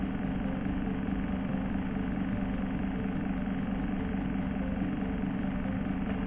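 A small electric motor runs steadily in a replica Baird mechanical television, giving a constant close humming drone with a faint rhythmic flutter. It holds an even level throughout with no speech over it.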